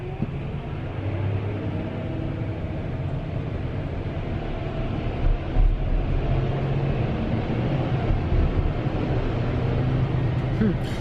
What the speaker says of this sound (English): Loud truck beside me.